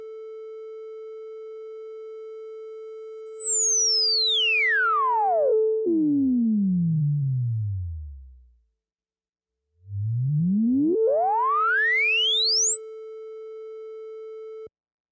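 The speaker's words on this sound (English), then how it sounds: "we can actually hear the cutoff frequency being swept because we have that peaking filter happening" A Behringer Model D synth tone with full filter emphasis sweeps its cutoff down in a whistling resonant glide to near silence, then sweeps back up over a steady held note, loud and alone.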